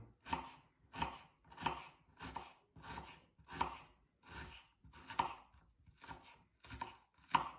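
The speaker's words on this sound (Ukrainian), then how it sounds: "тоді нарізаємо цибульку. Дрібненько." An onion is finely chopped with a knife on a board, about ten steady, evenly spaced thuds, close and clear with nothing else heard.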